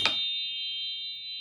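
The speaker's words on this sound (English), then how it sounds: "Unless you want to hear the chime." A single chime or singing-bowl-like bell struck once, with a sharp onset followed by a long, steady ringing tone that sustains evenly to the end in a quiet room.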